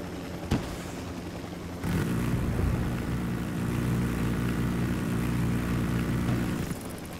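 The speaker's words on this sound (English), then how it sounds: "There's another helicopter down there." A helicopter in the Ghost Recon Wildlands video game. A sharp knock comes first, then a loud, steady rotor and engine roar starts abruptly and holds for about five seconds before it drops away.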